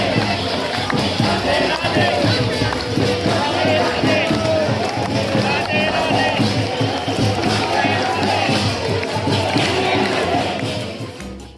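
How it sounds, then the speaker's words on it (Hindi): Dense crowd of people gathered at Prem Mandir temple in Vrindavan, a steady murmur of many voices with shuffling and movement, continuous and fairly loud throughout, fading slightly at the end. "यहाँ बहुत सारी भीड़ होती है"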